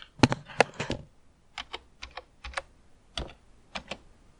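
Close, crisp typing on a computer keyboard: a quick burst of keystrokes followed by sparser, irregular taps with short pauses, heard alone in a quiet room.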